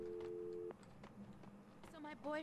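Telephone signal in the video game Max Payne 2, a steady electronic tone that cuts off after a moment and is followed by scattered game sounds and a voice.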